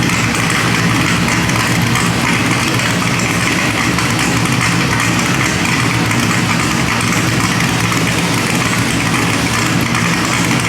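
A Smeding 441-cubic-inch LS3 V8 car engine idles steadily and loudly on a chassis dyno for the whole stretch, a constant deep rumble with no revving and no voices.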